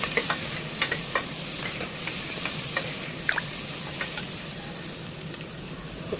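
A tomato frying in a hot pan gives a steady, moderately quiet sizzle, with scattered light clicks of a spoon stirring throughout, heard up close with no voices.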